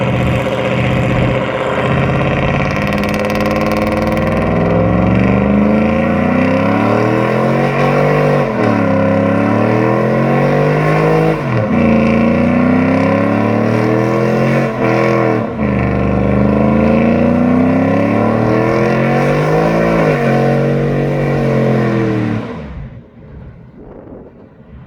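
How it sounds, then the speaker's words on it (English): A GMC Envoy roars through a sustained burnout, the engine held at high revs with rising and falling pitch swings for over twenty seconds, loud and close, before cutting off abruptly at the end. "here's a little clip of the last burnout with the Envoy"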